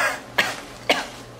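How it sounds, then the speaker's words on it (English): Two short, sharp coughs about half a second apart, close and fairly loud against a quiet room hum. "Cover my mouth when I'm coughing at you."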